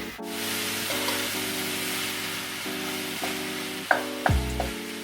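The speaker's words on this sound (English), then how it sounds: "break the ground beef in the skillet and cook until it's brown" Ground beef sizzles as it browns in a skillet for bobotie, a steady close frying hiss with a constant hum beneath and a few scraping stirs near the end.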